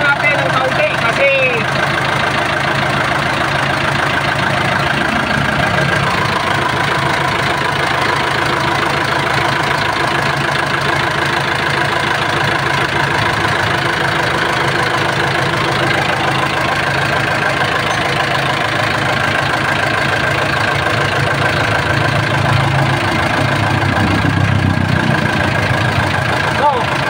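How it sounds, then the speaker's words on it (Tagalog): Mitsubishi 4B31 engine in a truck idles steadily at close range, a continuous mid-low drone with a faint knocking texture running unbroken throughout. "Itong makina nito ay 4B31."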